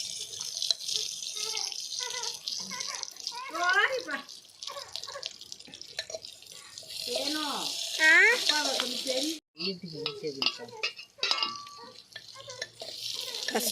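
Onion fries in a tiny clay pot, giving a light crackling sizzle that rises and falls while people talk nearby, with brief pauses and small clinks.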